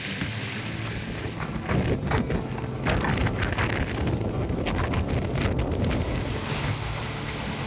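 Steady wind roars across the microphone aboard a sailboat beating upwind in 12 to 13 knots, mixed with the hiss of water and waves rushing along the hull, continuous and loud with no talking.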